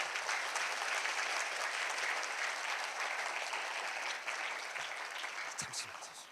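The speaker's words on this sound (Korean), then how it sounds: "다시 한번 뜨거운 박수 부탁드리겠습니다." A lecture audience gives warm, sustained applause after a special lecture at Korea University's College of Engineering. The clapping is dense and even throughout, fades a little near the end, and ends with a few scattered claps.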